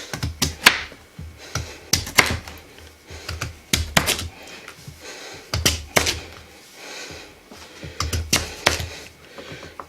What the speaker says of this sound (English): What I ought to do is get it cut up into cubes.